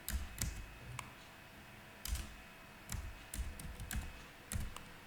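Soft typing on a computer keyboard comes in irregular bursts of light clicks, close and quiet, with no talking.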